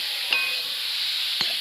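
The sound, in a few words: stirring pointed gourd and shrimp curry in a pan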